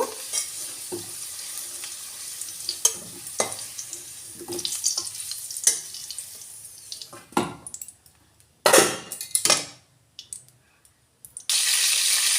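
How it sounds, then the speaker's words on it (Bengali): Potatoes fry in hot oil with a steady sizzle, broken by clattering stirs and scrapes of a utensil against the pan, then a louder burst of sizzling near the end. "এবার আলুটাও ভেজে বের করে নেব"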